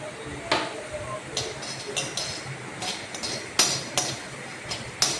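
Roasted spices for achari bitter gourd being pounded in a mortar, sharp clinking strikes at an irregular pace, about ten hits, close and clear over a light background hiss.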